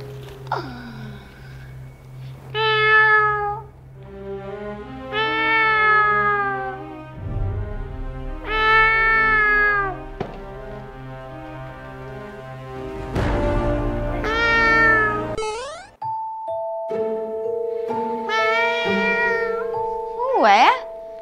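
Meows of a lost kitten in a forest, repeated drawn-out cries spaced through the scene, loud and close, with a character talking between and over them.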